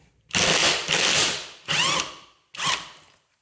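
An impact driver removing screws rattles in three loud bursts, its hammering whir revving up and cutting off with short pauses between, close by.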